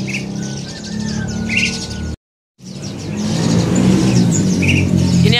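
Many birds chirp and squawk together at close range in a bird shop, with a low engine rumble beneath and a brief cut to silence midway.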